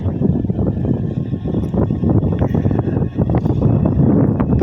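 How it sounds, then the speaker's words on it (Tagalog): Strong wind roars steadily and loudly against a flying FPV drone outdoors, a constant buffeting rush with gusty swells and no talk. "Kung naririnig nyo, malaban siya sa hangin."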